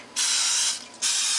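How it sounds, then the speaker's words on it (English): Two long hissing bursts from an aerosol cooking spray coating bowls, close by, separated by a brief pause. "you want to really spray pretty generously, just so it doesn't stick"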